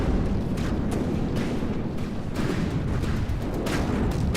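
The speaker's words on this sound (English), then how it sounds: "And some missiles there." Missiles exploding against a ship in the naval combat game From the Depths, a dense, continuous roar of blasts and crackling impacts with a few sharper bursts standing out, loud and close.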